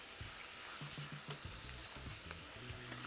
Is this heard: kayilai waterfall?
no